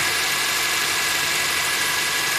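A car engine idles during an oil change, a steady even hum with a low rhythmic pulse, close and constant throughout with no revving.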